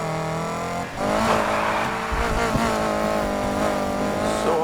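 A car in the racing game Need for Speed Heat cruising toward the start line, its engine humming steadily with rising and falling revs and a short dip near the start, close and prominent with no talk.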